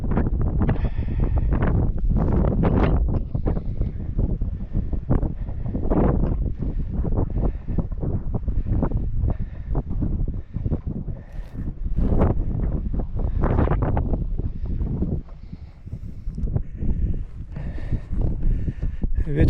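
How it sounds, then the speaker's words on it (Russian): Wind buffeting an action camera microphone outdoors, loud irregular gusts and thumps crackling continuously throughout, with occasional faint talk beneath the roar. "Ветер дует"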